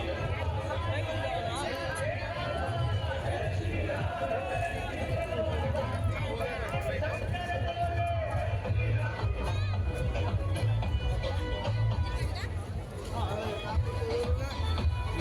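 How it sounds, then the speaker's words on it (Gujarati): Large crowd at a Ram Navami street procession, dense continuous chatter and hubbub with music playing underneath, steady and loud throughout with no pauses. "આટલી મોટી ભીડ છે ગીતું વાગે છે"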